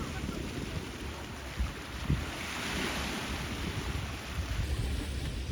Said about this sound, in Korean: 부서지는 시원한 파도 소리에 잠시 넋을 잃습니다.